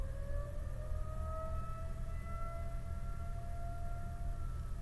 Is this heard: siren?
yes